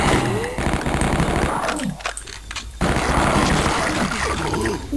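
Explosions and rapid gunfire-like blasts from enemies that blow up in the first-person shooter Shadow Warrior, loud and dense for most of the stretch with a brief dip in the middle.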